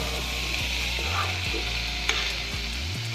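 Saag with turmeric sizzles steadily in a frying pan while being stirred round and round, giving a continuous close hiss broken by rhythmic scraping strokes and an occasional small pop.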